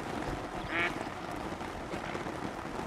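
A duck in the hunting game theHunter: Call of the Wild gives one short, faint quack over a steady outdoor ambience.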